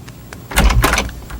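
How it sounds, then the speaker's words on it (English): A door creaks or clunks open in a short burst of broadband noise lasting under half a second, heard alone with no talking, set in a classic Sesame Street puppet scene with added sound effects. "I will go to the door and see."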